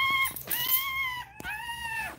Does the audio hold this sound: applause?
no